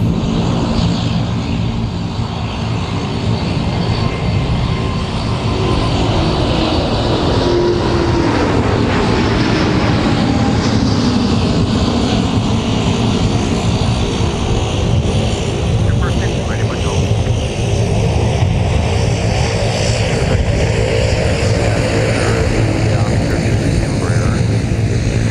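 Airliner engines roar steadily and loudly at MSP airport, a continuous broad drone with a slowly shifting pitch, while a voice talks over it.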